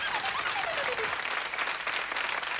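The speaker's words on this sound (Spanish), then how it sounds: "¡Un aplauso para la buena!" Studio audience applauding on a Saturday television game show, a dense even burst of many hands clapping, moderately loud, with a brief whistle-like gliding tone early on.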